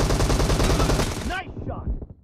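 Rapid automatic gunfire in a warehouse fight game, dense and loud bursts of shots that stop abruptly, followed by a couple of metallic pings and a short trailing rattle.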